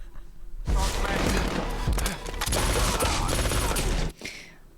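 A man imitates gunfire with his voice, a few seconds of loud, harsh, rapid-fire vocal bursts delivered close to the mic before trailing off.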